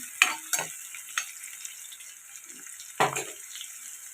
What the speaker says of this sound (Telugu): ఇది ఇప్పుడు ఫ్రై అవ్వాలండి ఒక ఐదు నిమిషాల పాటు ఫ్రై చేసుకోవాలి ఇవి